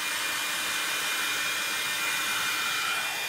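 A handheld heat tool dries freshly stamped ink on a paper craft project, giving a steady, close, continuous blowing whir with no break.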